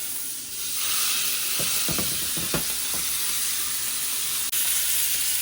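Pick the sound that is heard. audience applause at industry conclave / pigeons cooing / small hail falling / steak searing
steak searing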